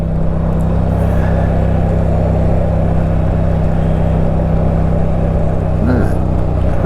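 A motorcycle engine drones steadily throughout a ride in the rain, a constant close hum with slight variations in pitch, partly masked by wind rush.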